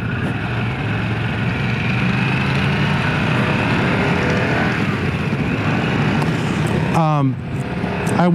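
A 2024 Harley-Davidson CVO Pan America motorcycle's exhaust drones steadily and loudly while riding on a demo ride, with a brief rising rev near the end.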